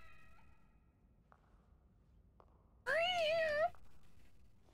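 A cat meows once in The Evil Within horror video game, a single loud wavering cry close up, preceded by quiet ambient background and faint clicks.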